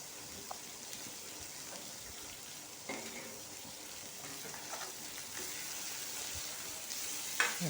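A steady, gentle sizzle of onions sautéing in a hot pan, with occasional stirring clicks, fairly quiet and continuous.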